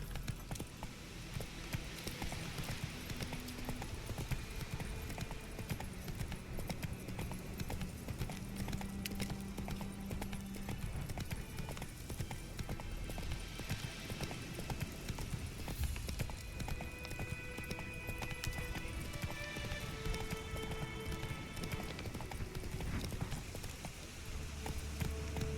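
Roach the horse galloping in The Witcher 3, a continuous rhythmic clip-clop of hooves throughout with faint ambient game sounds underneath.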